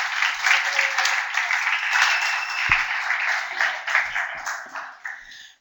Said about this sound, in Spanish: Les pido un muy fuerte aplauso para la sexóloga Tere Almanza